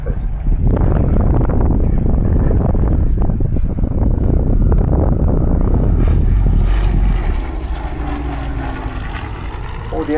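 A Battle of Britain Memorial Flight propeller aircraft flies past at the Southport airshow in 2022, its loud, steady engine drone mixed with wind buffeting before easing slightly toward the end.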